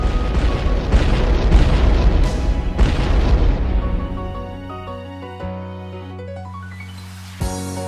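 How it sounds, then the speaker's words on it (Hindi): A loud, rumbling dynamite explosion outside a town roars and slowly decays, with a second burst in the middle and a sharp thud near the end as the blast fades, in an anime film. "तो ये कर देते हैं शहर के बाहर विस्फोट लगा के डायनामाइट।"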